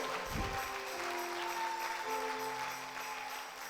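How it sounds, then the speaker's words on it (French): A church congregation applauds steadily throughout, a dense even wash of clapping with faint voices and a low tone running underneath. "donnez un applaudissement à Jésus encore"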